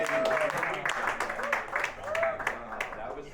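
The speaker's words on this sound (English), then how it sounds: "Clap it up for Obey Ali." A New York City open mic comedy audience claps for the next comic, with a steady wash of applause mixed with voices and cheering throughout.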